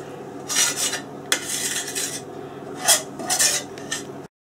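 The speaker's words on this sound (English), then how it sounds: "So I am just scraping it all on the beef." Utensil scraping a mixture onto beef for a beef Wellington, a few rough, close scrapes and clinks of metal on a dish in bursts with short pauses.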